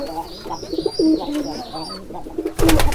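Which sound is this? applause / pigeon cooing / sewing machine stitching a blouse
pigeon cooing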